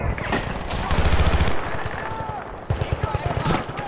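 Battlefield 2 video game combat with dense machine-gun bursts and single gunshots, loud and rapid, one stretch of sustained firing followed by a brief lull and then fresh crackling volleys.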